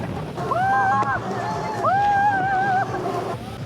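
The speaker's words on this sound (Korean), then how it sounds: "제트스키가 끄는 보트가 수면을 쾌속 질주합니다." A jet ski towing a boat whines and revs across open river water, its pitch gliding up and holding, with wind rush and spray noise underneath.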